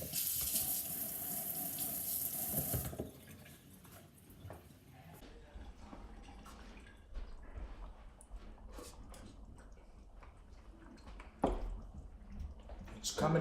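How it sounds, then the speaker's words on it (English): Food is rinsed under a running kitchen tap for about three seconds, a steady close water rush, then fades to quieter clatter and handling noises with low background sound. "go rinse it off again"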